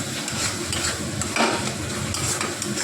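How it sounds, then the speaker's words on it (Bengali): Onion paste sautés in a pan for a lote fish dish, a loud, steady sizzle close up with constant stirring scrapes and light utensil clinks. "দেখো আমি কিন্তু খুব ভালো করে কষিয়ে নিচ্ছি"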